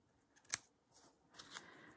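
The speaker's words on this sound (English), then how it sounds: "Okay, at this point, I can trim" Scissors trimming paper for a decorated craft journal page, a crisp snip followed a moment later by a couple of softer cuts, close and quiet.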